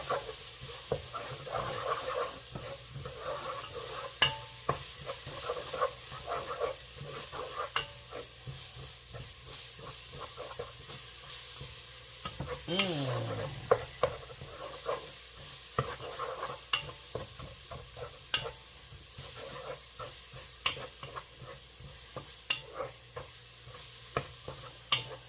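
Bay leaf, thyme leaves and garlic stirred through a sizzling pan for a tomato pomodoro sauce, with steady frying hiss and repeated scraping spoon strokes, close and continuous throughout.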